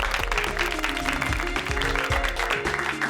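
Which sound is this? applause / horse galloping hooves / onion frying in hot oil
applause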